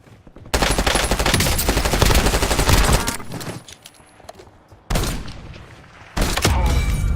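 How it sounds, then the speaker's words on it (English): Loud bursts of video game gunfire in a squad battle royale match, with a long rapid volley, a pause of quieter echoing shots, then two more heavy bursts, close and dominant. "Shit, somebody's shooting at me."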